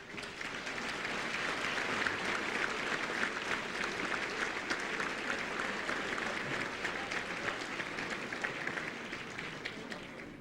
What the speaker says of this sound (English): how about a big round of applause for all of them?